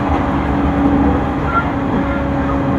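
A JR 209 series train runs on the Narita Line rapid service from Narita toward Chiba, giving a loud, steady rumble and rolling drone heard from inside the carriage, with a faint whine over it.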